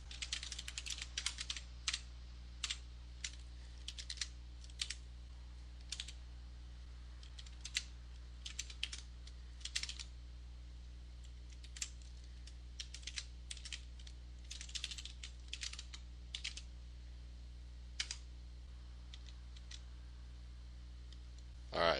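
Keys click on a computer keyboard while editing text in Vim, with sparse, irregular bursts of light tapping over a faint steady hum for more than twenty seconds.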